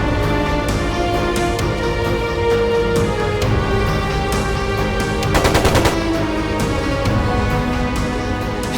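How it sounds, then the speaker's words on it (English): A machine gun fires a short, rapid burst in Trails of Cold Steel, a fast rattle of shots standing out briefly from a loud, sustained bed of game music and ambience. "It sounded like a machine gun."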